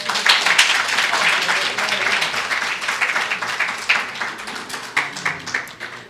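An audience at a students' general council meeting breaks into a round of applause, dense close clapping that swells early, holds steady, then thins into scattered claps.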